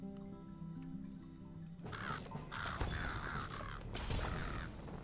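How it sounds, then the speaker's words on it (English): Crows caw repeatedly in Lord of the Rings Online, a cluster of harsh calls at moderate distance over a low rumbling background after a brief quiet start. "Sound of crows over there."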